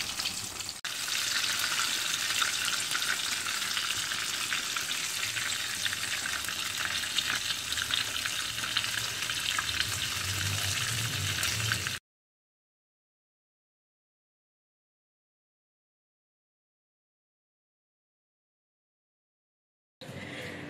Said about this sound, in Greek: Τις τηγανίζουμε σε δυνατή φωτιά 2 με 3 λεπτά την κάθε